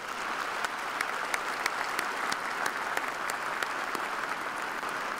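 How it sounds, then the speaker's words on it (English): Steady audience applause fills a large hall at a fall commencement ceremony, continuous dense clapping with individual sharp claps standing out, no speech. "Let's give them a round of applause."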